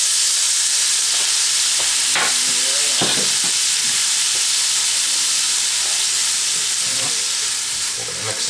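A pan of peppers and Italian-seasoned riced cauliflower is deglazed and sizzles loudly and steadily up close, with stirring scrapes and clatters of a utensil breaking through the hiss.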